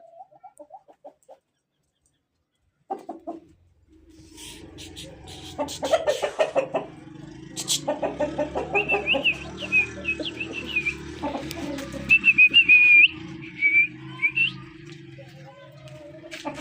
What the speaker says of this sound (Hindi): बहुत प्यारा मुर्गा है मेरा